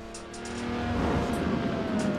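A car rolls slowly in the racing game Forza Horizon 4, on the way to a Lamborghini meet, with a low engine hum that builds slightly and holds steady.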